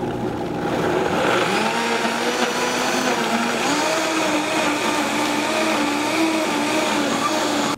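A blender runs on thick raw kale chip batter made with whole sesame seeds, a loud, steady whir that holds for several seconds with a slightly shifting pitch.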